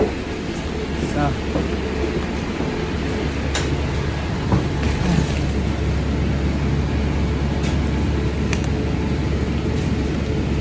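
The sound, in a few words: riding on a city bus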